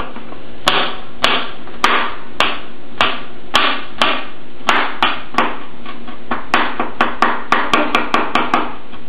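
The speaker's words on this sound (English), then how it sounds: "That skin, as you see, comes right off, and then you can cut it. Just a rough chop for me." Knife roughly chopping vegetables for a black bean soup on a cutting board, sharp close taps at first spaced then quickening into a brisk run of chops, with no talking.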